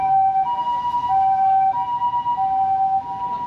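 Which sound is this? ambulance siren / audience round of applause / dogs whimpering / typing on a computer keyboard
ambulance siren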